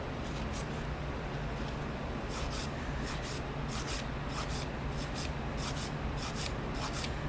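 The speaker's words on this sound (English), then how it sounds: "You can tell what happens when I file" Hand file working a surface in repeated rasping strokes, a steady series of short bursts at an even rhythm, close and alone without any talking.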